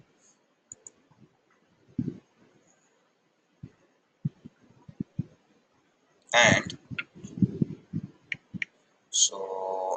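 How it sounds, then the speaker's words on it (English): Computer keyboard typing and mouse clicks come in sparse, sharp taps, close by and quiet, with someone talking in bursts between and over them. "so I'm just typing here"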